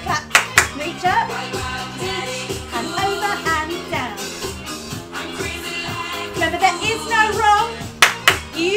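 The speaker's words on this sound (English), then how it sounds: "Double clap, reach up." Hands clap in crisp double claps during a dance-along workout to "Daddy Cool", sharp pairs of claps near the start and end cutting through loud, driving pop music.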